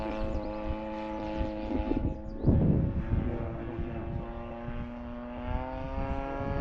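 Blue and yellow RC biplane powered by a 50cc engine buzzing steadily as it flies past, its drone rising briefly then holding at a moderate distance outdoors.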